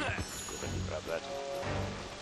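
Rain falling in the video game Star Fox Adventures, a constant soft hiss of droplets running under a voice as he talks throughout.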